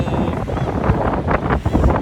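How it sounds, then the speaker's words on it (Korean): Strong wind beside a lighthouse on Jebudo island buffets the microphone in a steady, rough roar with gusty surges, close and loud throughout. "너무 바람이 세니까"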